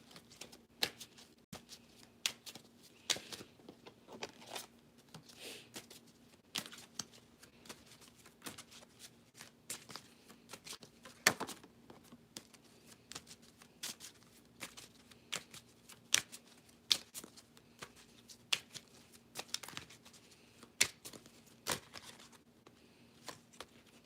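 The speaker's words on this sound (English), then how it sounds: "All right, Katrina, I'm going to shuffle and then I'll have you pull your cards, okay?" A tarot deck being shuffled by hand, with a steady run of crisp card riffles and flicks repeating for about twenty seconds, close and quiet, with no voices.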